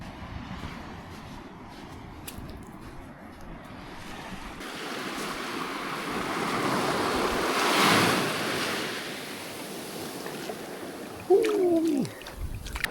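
Pacific Ocean waves wash onto a beach on Catalina Island, a steady surf roar that swells midway, with wind buffeting the microphone and a brief sharp noise near the end.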